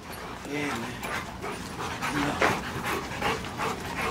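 Dogs panting and whimpering during a tug of war game, with steady heavy breaths and whiny cries up close while people's voices mingle in the background.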